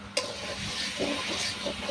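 Spices sautéing in a pan for a chicken dish, a soft bubbling sizzle with a single knock at the start, quiet and close with no talking.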